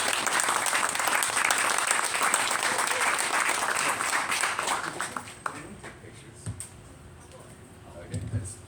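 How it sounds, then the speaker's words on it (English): An audience at a book reading event claps loudly and steadily for several seconds, then the applause thins out to scattered claps and murmurs. "Round of applause, everybody."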